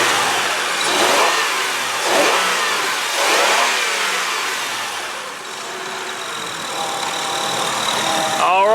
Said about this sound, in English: so I'm going to be quiet and let you listen to the motor